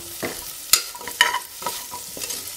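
Ground shallots go into mutton frying in a pan for a toddler's mutton rice, with a soft sizzle and a few sharp scrapes and clatters as a spoon stirs them in, no talking.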